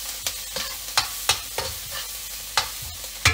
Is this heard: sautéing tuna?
yes